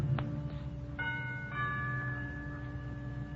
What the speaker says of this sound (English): I lean on the bell